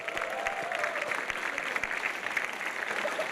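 A studio audience at a stand-up comedy show applauds steadily for a comedy group from Bekasi. Dense, sustained clapping rolls on for several seconds with a faint voice beneath.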